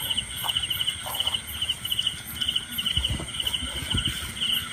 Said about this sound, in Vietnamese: Dàn nhạc nhái bầu của mình đó